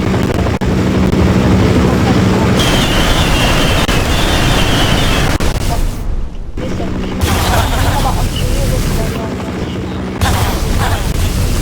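Nuclear weapon detonating in Minecraft, a loud, sustained rumbling blast that fills the whole stretch, with brief drops in level and renewed roaring bursts, no talking over it.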